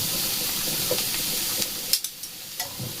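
Whole poppy seeds frying in a pan with salt and a little sugar sizzle and hiss steadily, broken by a few sharp scraping stirs toward the end.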